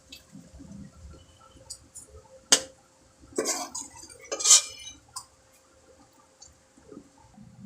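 Cooked beef tripe lifted out of a pot onto a plate: a few spoon clinks and scrapes against metal and plate, two sharper knocks standing out over a quiet kitchen background.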